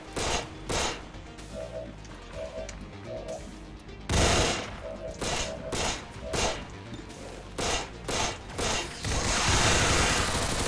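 Loud bursts of rapid automatic gunfire fill a turn-based tactical combat game, separated by brief pauses and short electronic beeps, ending in a sustained roar of fire.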